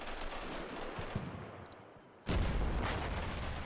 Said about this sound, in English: I think they just start firing laws at it.